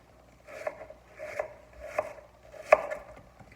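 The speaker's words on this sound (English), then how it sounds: "So here I chop the onions into pieces." Knife chopping onions into pieces on a board for pho soup, four soft rhythmic chopping bursts at close range with a sharper final cut, in a quiet kitchen.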